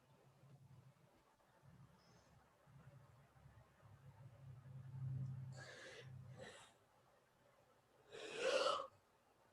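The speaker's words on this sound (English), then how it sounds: "Don't be yawning during class." A faint, drawn-out low breathy yawn from a student during a class, followed by a few soft puffs of breath and a sharper exhale at the end.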